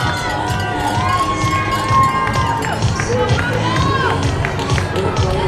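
A crowd cheers and shouts continuously for runners finishing the Bedford Half Marathon, a steady roar of voices with children's shouts and scattered claps, while an announcer talks over it.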